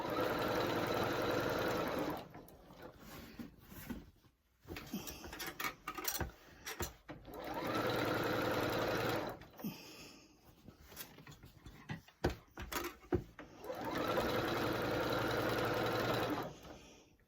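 A Singer 8500Q sewing machine stitches circle quilting in three steady, rapid whirring runs of a few seconds each, separated by quieter pauses filled with clicks and handling of the fabric, close and without talk.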